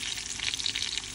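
Minced lamb kebabs, keema borah, sizzle in a pan with hot oil, a close, steady crackle with small bright pops throughout the brief moment.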